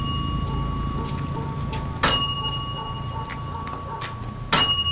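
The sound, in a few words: temple-style bell ringing at a stupa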